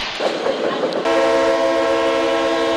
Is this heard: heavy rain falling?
no